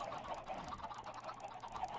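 Minecraft chickens, baby chicks and adults, clucking in quick, busy succession at low volume, a steady patter of soft squawks with no talking over them.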